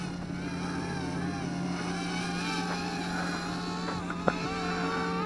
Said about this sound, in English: Just a toy drone in the shape of a wing.